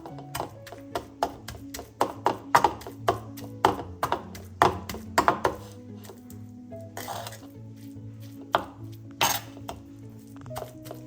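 Rhythmic sharp knocks and clinks of hand-crushing Amrutham powder snack ingredients in a vessel, steady and close, with occasional louder strikes and faint background hum.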